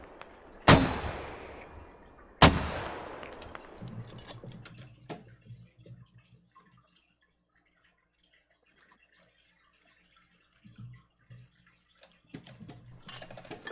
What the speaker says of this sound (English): We're firing mortars on that hab just north of you.